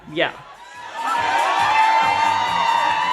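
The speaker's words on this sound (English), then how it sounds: "All that screaming, it's because Richard got on the table to dance for them" A crowd of women screams and cheers loudly on a cruise ship as a man dances on a table. A sharp shriek rises first, then a sustained wall of excited shouting and whooping carries on to the end.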